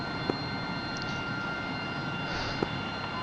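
F-16 jet in the DCS flight simulator on final approach to runway 27, a steady broad engine roar with a high whine, constant in level, plus two faint clicks.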